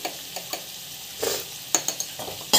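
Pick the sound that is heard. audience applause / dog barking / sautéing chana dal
sautéing chana dal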